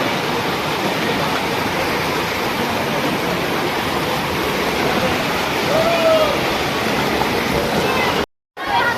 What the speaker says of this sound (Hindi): देखो पानी का धार।